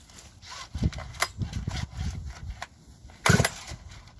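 A Holzfforma chainsaw's starter cord is pulled against engine compression, giving a few rough, ratcheting pulls close up with a sharper burst near the end.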